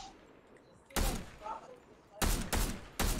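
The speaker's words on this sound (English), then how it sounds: "You should focus on the guy shooting you." Gunfire in Fortnite: a few loud, sharp bursts of shots, one isolated volley followed by a quick cluster of three, standing out over quiet game ambience.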